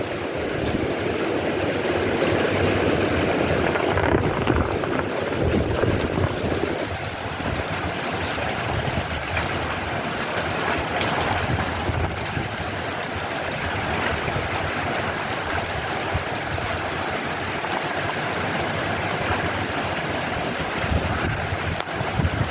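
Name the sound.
strong typhoon wind and rain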